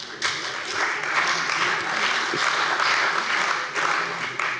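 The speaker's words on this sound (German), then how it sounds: "Und das, denke ich, ist ein Applaus wert." Steady applause fills a state parliament plenary chamber in Hesse, many hands clapping together in a dense, sustained wash that holds evenly from start to finish, with no speech over it.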